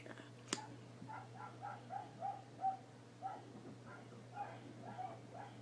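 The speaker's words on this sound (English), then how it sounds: "Sorry if you can hear my dogs." Faint, distant dogs bark and yip in a loose series of short calls over a low electrical hum, with one sharp knock early on.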